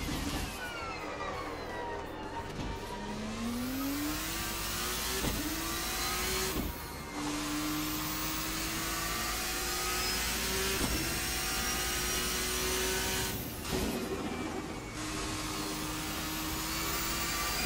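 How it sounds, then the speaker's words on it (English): An RSS 2 V6 hybrid race car in Assetto Corsa drones steadily through the engine and rises in pitch as it accelerates. Short drops in sound mark the gear changes, and a loud, continuous engine noise runs throughout. "Doesn't sound to have, you know, seem to have a lot of torque"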